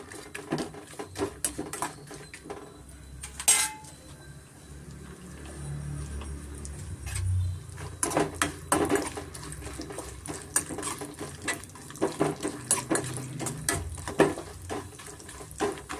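Roughly chopped dry fruits are stirred in hot ghee in a pan. A spoon taps and scrapes the metal in irregular bursts over a faint sizzle.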